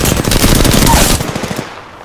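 Rapid automatic gunfire rattles in a battle royale shooter game, a loud close burst of fast repeated shots lasting over a second before trailing off into echoing decay.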